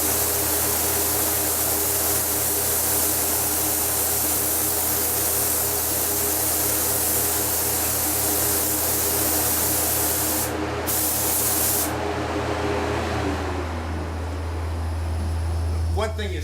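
Steady hissing spray of a paint gun spraying water-based paint, running continuously and close, with a low mechanical hum beneath; the hiss shifts and thins near the end.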